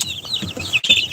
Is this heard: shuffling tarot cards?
no